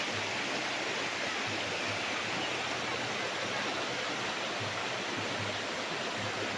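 A river flowing past a farm lot in Liliw, Laguna, a steady, close rush of water with a faint low hum running beneath it, no talk.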